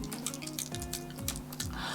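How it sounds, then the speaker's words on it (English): Water being taken from a glass or bottle: soft liquid slurps, drips and small gulps, close and fairly quiet, with no one speaking. "I'm going to take some water"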